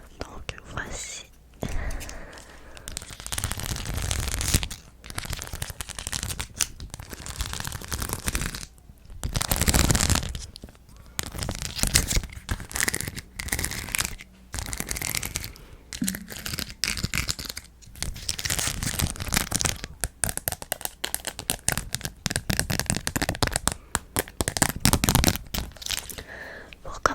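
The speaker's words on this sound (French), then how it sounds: "Si j'arrive à ouvrir le sac." Plastic bag of rhinestones being opened at a close microphone, with crinkly tearing and rustling in irregular bursts across the clip, mixed with soft whispered speech.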